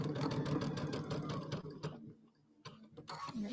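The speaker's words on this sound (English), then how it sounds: "going to sew over this down to this pin, and then I'm going to back up over it to give it some strength, and then sew over it again" A sewing machine stitches fabric for a rectangle bench buddy project: a fast, even mechanical whir runs close and steady, pauses briefly, then starts again for a short back-stitch and a final run.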